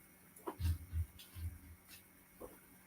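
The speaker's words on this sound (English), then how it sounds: "The dog." A dog whimpers indoors in a few short, soft whines and low muffled sounds, fairly quiet and close, with no clear talking.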